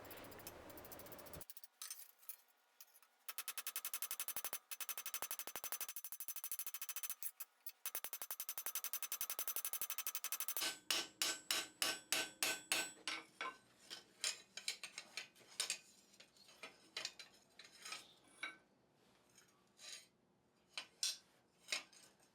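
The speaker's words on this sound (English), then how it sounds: "I'm ready to set the pin and rivet the two halves together" Sharp metallic hammer strikes ring out in quick bursts and repeated taps as a blacksmith rivets a hinge pin, close and crisp, with pauses between runs of blows.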